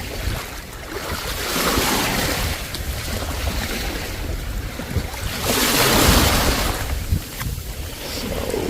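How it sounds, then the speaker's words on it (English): Strong gusting wind of 30 to 40 knots buffets the microphone on an Aruba beach, a loud roaring rush that swells and eases, with surf washing underneath. "Very windy here today."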